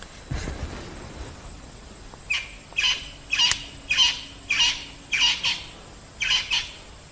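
Crested francolin calling outdoors on a night safari drive, a series of harsh rhythmic squawking notes in quick pairs at moderate distance, repeated about eight times over a faint background hum.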